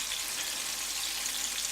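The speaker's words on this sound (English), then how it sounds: "I'm going to fry all of them on medium heat until they almost done" Meatballs fry in a pan over medium heat with a steady, even sizzle that hisses continuously and fairly close, with no voices.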